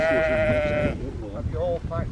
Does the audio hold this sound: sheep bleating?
yes